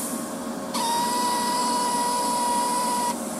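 A MIG welder's trigger is pulled on an aluminum dock repair job, releasing shielding gas at about 45 CFH with a sudden steady hiss and faint electrical whine for several seconds before it cuts off abruptly.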